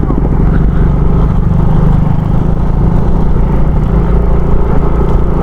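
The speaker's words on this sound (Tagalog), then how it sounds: "dami motor" Steady, loud engine rumble from motorcycle traffic on a rough road between Calauag and Quezon, continuous and close throughout with no clear pauses.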